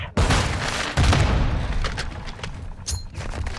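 A heavy grenade blast in the video game Call of Duty Modern Warfare II: a loud, close boom at the start, a second thump about a second later, then scattered gunfire and debris trailing off.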